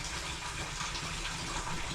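Water pours steadily into a tank at a rural Russian bathhouse, a continuous close rushing gush with no break or voices.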